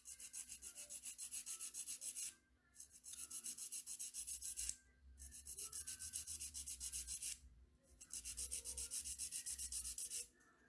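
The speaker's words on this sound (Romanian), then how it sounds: "eu va trebui să pilesc și pe dedesubtul unghiei, pe lateral, fără să mă duc aproape de unghie, ci doar pe vârf" A nail file rasps across the tip and edge of a fingernail in four long, even strokes, each separated by a brief pause, close and fairly quiet.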